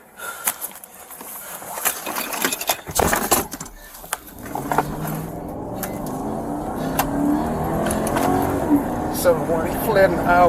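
A DUI suspect's car pulls away from a roadside police stop, its engine revving and accelerating at close range. Voices talk and shout over it before the engine settles into a steady drone.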